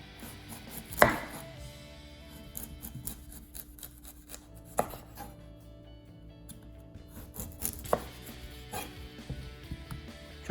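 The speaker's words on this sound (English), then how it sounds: "Next, celery root. Chop off the top, chop off the bottom." A knife chops through celery root on a cutting board, with a few distinct heavy cuts spaced several seconds apart, each followed by quieter scraping and handling, no talking.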